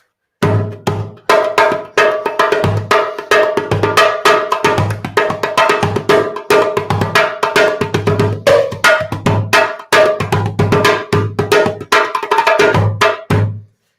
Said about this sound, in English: This is kind of Turkish and also Egyptian type of drum.